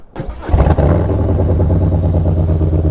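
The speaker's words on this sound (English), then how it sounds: "Nice little cold start." Harley-Davidson Low Rider ST motorcycle fired up from cold, a short crank catching into a loud, steady, lumpy V-twin idle that rumbles on close by without any talk.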